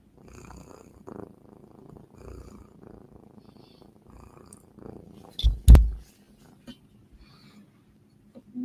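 A soft, low cat purr rumbles steadily in the background, broken by a brief loud handling thump partway through.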